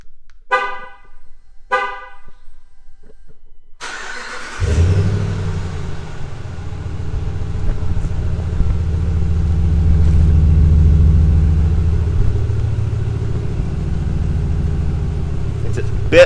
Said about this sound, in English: I'm gonna start it up and you guys can have a listen here